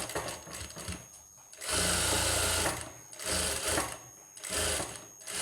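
An electric sewing machine stitching a designer blouse, whirring loudly in two long runs with short pauses and softer bursts between, close and steady without talk.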